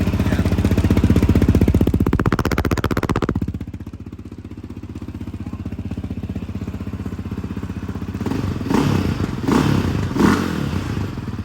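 A Yamaha Raptor 700R SE ATV engine with aftermarket exhaust revving hard with a throaty, grunty exhaust note, easing to a steady idle and then blipping up again in short revs.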